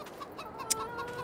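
Chickens in the Farming Simulator 22 video game give soft, repeated clucks in a steady rhythm, faint and unhurried over a low ambient hum, with no talk.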